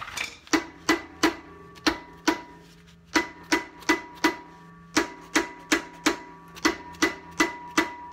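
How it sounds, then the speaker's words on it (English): Repeated heavy mallet blows on the rear wheel hub of a Jeep Grand Cherokee WK, struck in quick bursts of three to five hits with short pauses, loud and close. "It's not coming off right away, so first I'll try a mallet"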